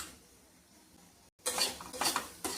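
A small metal spoon clinking and scraping against a pan while turmeric and chutney go into tondli for a Khandeshi dish, a few quick close clinks after a brief cut.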